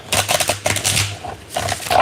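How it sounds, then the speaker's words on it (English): Tarot cards are shuffled by hand in rapid, riffling flutters and soft slaps, loud and close, with no talking. "Let's start with a little pre-shuffle."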